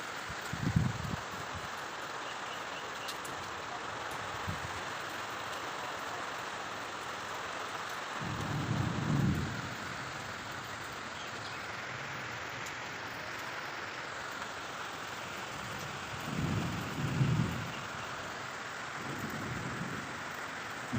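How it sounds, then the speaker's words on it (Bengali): Heavy rain falls in a continuous, even wash of sound, broken by several low rumbles of distant thunder that swell and fade. "তারপরে আরও জোরে বৃষ্টি হচ্ছে"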